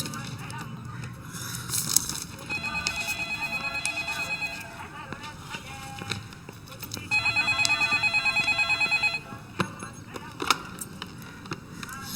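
A telephone rings in two long trilling bursts over background noise and clatter, with a pause between them.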